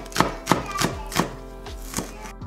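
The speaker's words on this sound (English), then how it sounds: "For leek, finely chop them." A knife finely chopping leek on a board makes about seven crisp, close chops at an uneven, unhurried pace.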